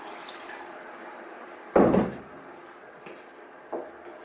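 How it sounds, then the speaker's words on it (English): A splash of water poured into a pot of beef and potato curry masala, a single sudden gushing burst with a few faint knocks and clinks trailing after it. "I'm going to add one more splash of water."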